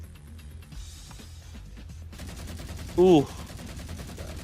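A sharp, loud gunshot sound effect in a tabletop RPG session, a single burst mid-clip over background table chatter, with a voice reacting briefly.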